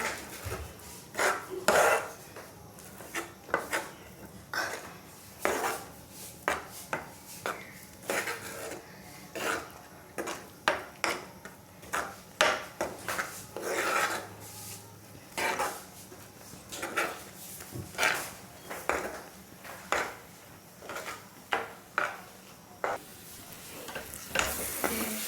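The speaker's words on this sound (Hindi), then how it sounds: "तो गाइस इसे लगातार चलाते हुए पकाना है।" Mango laddu mixture stirred continuously in a pan on the stove, producing repeated scraping and rubbing strokes of a spoon against the pan with a soft sizzle between them.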